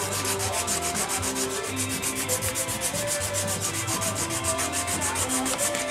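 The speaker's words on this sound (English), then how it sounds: "now it's just sanding it, making it look nice and smooth" A scrap-metal knife blade held in a vise is sanded smooth by hand, giving a steady run of rapid rhythmic back-and-forth rasping strokes, close and fairly loud, with no talking.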